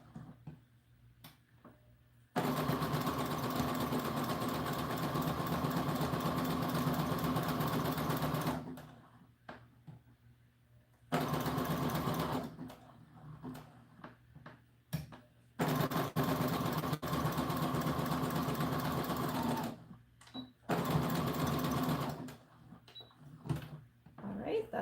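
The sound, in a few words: sewing machine stitching an American Girl doll dress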